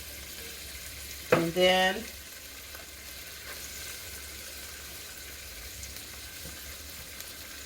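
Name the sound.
garlic sizzling as it is added to a hot pan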